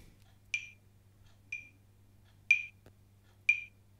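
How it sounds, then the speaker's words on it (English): Tempo metronome app clicking steady quarter notes, four short sharp ticks about one second apart, close and clear over a faint low hum. "Now some metronomes like this one, and the one I'm using is one called Tempo, which I really like."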